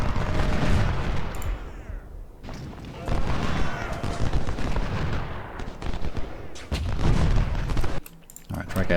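Cannon and rifle fire from a Civil War battle at Gettysburg in the strategy game Ultimate General: Civil War: dense, continuous booms and crackling volleys with brief lulls, loud and close throughout.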